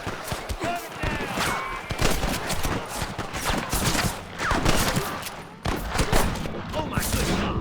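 Rapid bursts of video game gunfire in Red Dead Redemption, loud overlapping shots and rattling volleys crackling almost nonstop, with a voice shouting over the fight.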